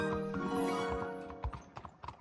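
Horse hooves clip-clop in Red Dead Redemption 2, a quick rhythmic series of close hoofbeats with a brief whinny-like tone at the start, heard alone.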